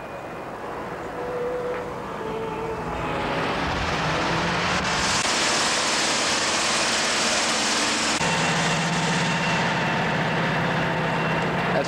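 A 360 horsepower Ballast heavy-haul tractor engine builds from a low rumble to a loud, sustained roar as it revs and pulls a jumbo gas tank transport in Malta, 1980, with a deep droning tone near the end.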